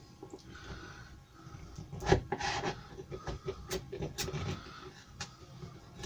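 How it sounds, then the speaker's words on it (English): Scraping and rasping of a chisel removing glue from wood, a series of short close scratches and taps with small pauses between strokes, fairly quiet. "I want to remove it with a chisel."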